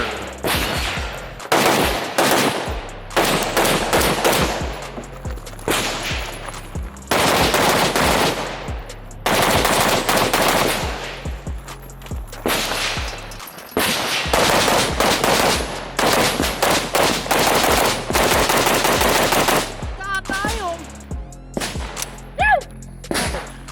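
Rapid bursts of AK rifle fire at an AK Masters shooting competition, loud close strings of shots separated by short gaps, with a few brief pauses and faint voices near the end.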